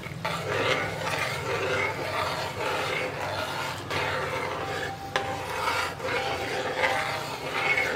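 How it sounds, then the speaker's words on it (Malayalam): A spoon stirs flattened rice into a pot of sweet payasam, making steady, continuous scraping and soft wet rubbing that stays close and moderately loud, with no voices. "ഞാനിപ്പോൾ അവലും കൂടി ചേർത്തിട്ട് മിക്സ് ചെയ്യാൻ പോവാണ്."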